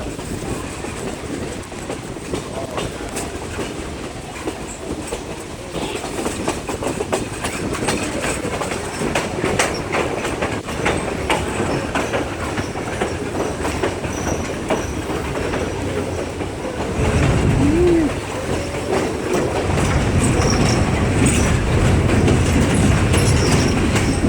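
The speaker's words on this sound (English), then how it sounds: "Here's this big steel bridge that we come up on the train ride over the river." A passenger train crosses a large steel bridge over a river near Bryson City, North Carolina, with a steady, continuous rumble and clatter of wheels on rails throughout, growing somewhat louder and heavier toward the end.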